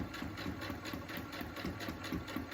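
A sewing machine runs steadily, stitching a straight seam along a fabric mask, its fast mechanical whirr and rhythmic needle pulses continuing close and even throughout.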